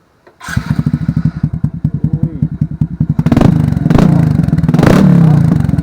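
A Suzuki Smash 115 motorcycle fitted with an Apido aftermarket exhaust pipe starts up and idles with a rapid, loud, steady put-put, then is revved in several strong surges, the engine roaring and falling back between blips.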